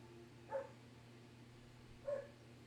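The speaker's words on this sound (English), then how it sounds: "The neighbor's dog barking at another leaf." A neighbor's dog barks twice in the distance, two short faint yaps about a second and a half apart over a steady indoor hum.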